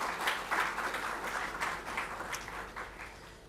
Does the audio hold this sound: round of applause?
yes